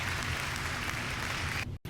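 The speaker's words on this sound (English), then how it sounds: "Can we get a round of applause for my very first solo video?" Studio-style applause for a first solo talk-show episode: a dense, steady wash of many clapping hands that carries at even loudness, then cuts off abruptly near the end.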